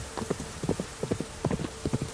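Horse hooves trotting in a steady clip-clop, clear paired beats in regular rhythm at moderate distance, fairly quiet against a soft background.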